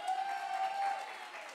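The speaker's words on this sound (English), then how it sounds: "Let's give them a round of applause." Theatre audience at a school production of the musical Shrek applauds the cast: a brief, fairly soft wash of clapping under a steady tonal hum.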